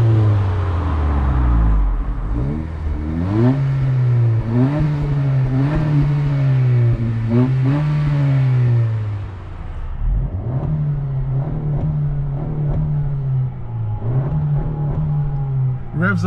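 A Honda Civic Si engine is revved repeatedly up close. Loud rising and falling engine tones swell and drop in a series of rev sweeps, with a short pause partway through before the revving resumes.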